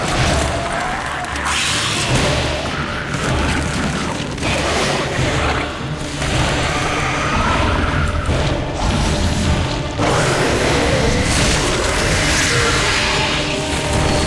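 Cannons firing in StarCraft II: Legacy of the Void, loud repeated booms and crashing impacts in a dense, continuous barrage of battle noise with mechanical clatter throughout.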